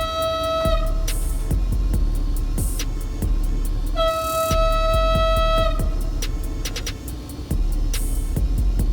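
A steel train rumbles past close by, its horn sounding in repeated long blasts over the steady roar and clatter of wheels on track, with sharp metallic clanks throughout and no voices.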